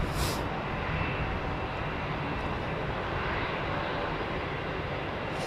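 A jet airplane roars steadily at London Heathrow Airport, a broad, loud engine rumble that stays constant throughout with no talking.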